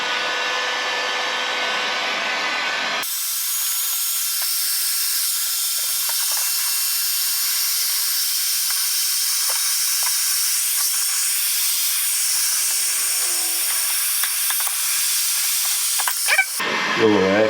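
A heat gun blasts a steady, loud hiss for many seconds as it heats a countertop end cap, starting and stopping abruptly with faint handling noise near the end.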